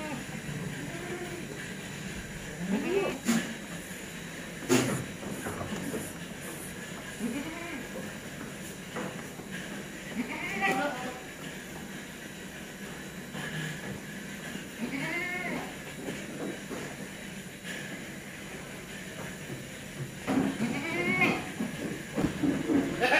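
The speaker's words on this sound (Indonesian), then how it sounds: "satu bandot ini dan beberapa indukan" Goats bleat again and again on a goat farm, several calls scattered over a steady background, some near and some farther, with someone talking at times among them.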